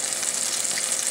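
Homemade onion rings fry in hot oil, giving a dense, steady sizzle that is close and fairly loud, with no voices over it.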